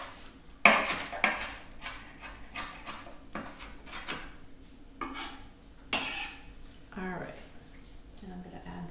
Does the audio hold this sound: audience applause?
no